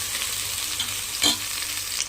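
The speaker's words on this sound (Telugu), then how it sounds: "ఇవి కూడా చక్కగా ఫ్రై చేసుకున్నాం. ఒక 2 మినిట్స్ వరకు ఫ్రై చేద్దాం." Chopped mint and coriander fry in a pan for a biryani-style dish, giving a steady close sizzle with a quick sharper crackle in the middle and no talking.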